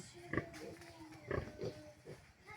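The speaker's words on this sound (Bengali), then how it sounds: "এগুলো হচ্ছে বড় জাতের শুকর" Large-breed pigs grunting and oinking in a farm pen, a few short nasal grunts in quick clusters, fairly faint and close.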